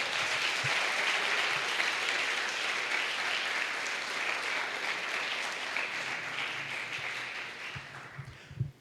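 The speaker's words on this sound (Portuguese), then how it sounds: "Aplauda o Senhor Jesus." A church congregation at a worship service applauds to the Lord, steady broad clapping from many hands lasting several seconds before tapering off at the end.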